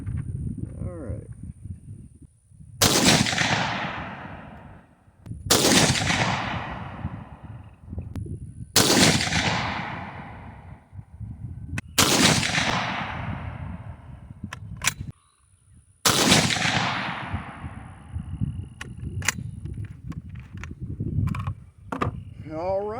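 Five loud bolt-action rifle shots firing 69gr RMR HPBT hollow-point boat-tail rounds from a BCA bolt-action upper, each a sharp crack with a long decaying tail, spaced a few seconds apart.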